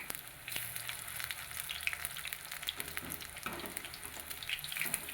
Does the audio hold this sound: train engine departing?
no